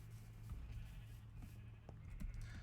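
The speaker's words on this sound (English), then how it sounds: "God, the animal noises are deafening." Farm animals in a survival video game, with goats and sheep bleating in a loud, constant din, several short calls rising over a dense background of animal noise.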